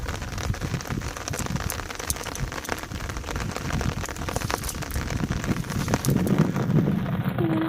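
Heavy rain pours down over a canal by a gate during shrimp and fish netting, making a loud, dense, constant patter close by with no voices heard.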